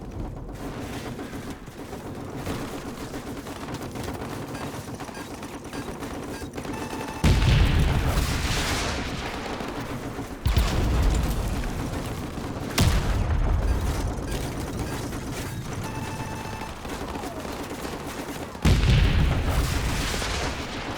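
Heavy gunfire and booming blasts from the video game Call of Duty Modern Warfare Remastered, with sustained rumbling fire broken by several loud, sharp impacts spaced a few seconds apart.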